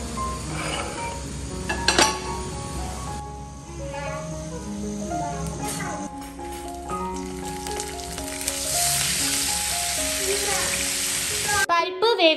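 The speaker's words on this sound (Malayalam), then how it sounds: "കൂടെ തന്നെ മാന്തൾ ഫ്രൈ ചെയ്തെടുക്കുകയാണ്" Manthal fish frying in a home kitchen, a bright sizzle that swells in the second half, with pan clinks and a background music track throughout.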